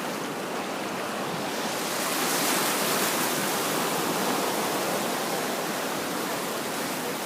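Steady broadband wash of sea water and ocean waves rolling in, a continuous roar that swells slightly midway and holds loud and close throughout, with no voices.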